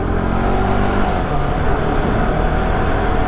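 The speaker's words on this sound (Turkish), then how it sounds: "İkidir ikinci vitese atamadım motoru ya" A moped engine drones loudly and continuously, a dense low rumble with roadway noise, while the rider keeps failing to get it into second gear.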